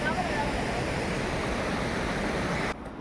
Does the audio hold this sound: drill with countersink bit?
no